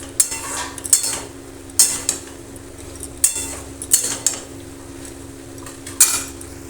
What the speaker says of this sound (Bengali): এবার সমস্তটাকে আমি ভালো করে কষিয়ে নেব।